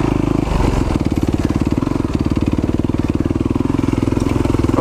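Enduro dirt bike engine on a rocky, dusty trail at night, a loud, close, steady pulsing chug as the bike rides along, with no talk.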